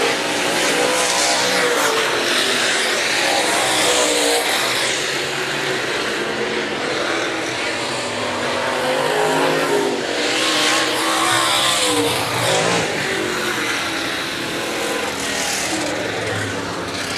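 Late model race cars roar through a heat race at Raceway Park, engines loud and continuous with a sweeping drone as the pack passes, sustained across the whole stretch without talk.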